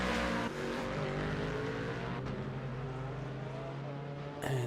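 Multiple race cars in a sim racing endurance event at Sebring, GT and MX5 classes, roar continuously with layered engine tones and gear shifts, loud and steady throughout with no talk.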